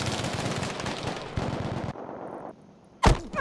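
Close, loud automatic fire in Battlefield V on the Narvik map in Breakthrough mode rattles in fast bursts for about two seconds and stops. A brief sharp crack follows after a short quiet stretch.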